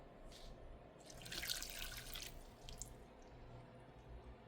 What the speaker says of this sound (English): Okay, so I'm now gonna be adding some water